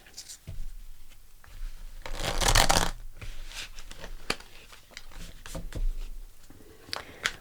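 Tarot cards rustle and flick as they are shuffled, with a louder burst of riffling midway, followed by scattered soft taps and slides as cards are drawn and laid down.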